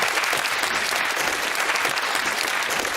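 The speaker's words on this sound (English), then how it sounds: "Give yourselves a round of applause." A studio audience at the University Challenge quiz show gives sustained, even applause, a steady wash of many clapping hands throughout.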